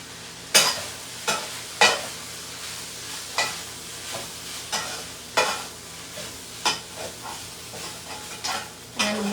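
Fried rice tossed in a pan with dark soy sauce, Indian-style Thai fried rice: repeated sharp scraping clanks of the spatula against the pan at an irregular rhythm over a steady frying sizzle, close and fairly loud.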